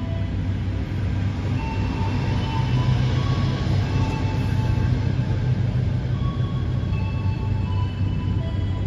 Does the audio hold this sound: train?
yes